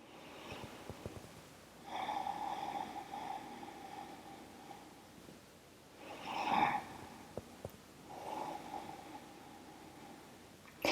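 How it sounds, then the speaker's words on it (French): Slow, deep breaths drawn in and released during a chair yoga session, three soft, airy inhalations and exhalations spaced a few seconds apart in a quiet room. "Prenez quelques dernières respirations ici."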